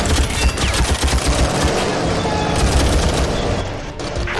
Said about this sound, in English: one simple shot at this gate should blow it down